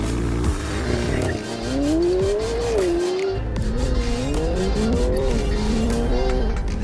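A Lamborghini Aventador S Roadster and a McLaren 720S Spyder race side by side in a drag race, with loud, close engines revving and climbing through gear changes and overlapping howls from both cars.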